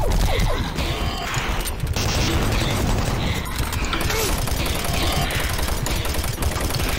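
A plasma gun in Doom 3 fires loud, rapid bursts packed into a continuous barrage, mixed with crashing impacts and mechanical game noise.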